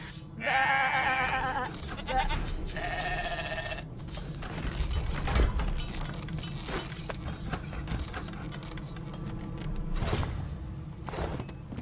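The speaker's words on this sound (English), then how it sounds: "Shaking her fluffy coat, the sheep eyes you balefully." Sheep bleating in the video game Divinity Original Sin 2, two clear wavering bleats in the first few seconds over a steady game ambience that continues alone afterward.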